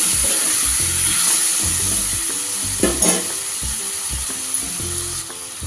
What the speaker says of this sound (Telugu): మొత్తం అంతా కూడా కలిపేసుకోవాలి.